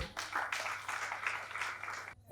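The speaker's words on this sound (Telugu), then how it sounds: "So with big round of clap." An audience claps at a real estate project launch event, steady applause rising and falling over about two seconds, then cutting off.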